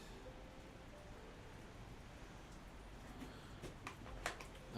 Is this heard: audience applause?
no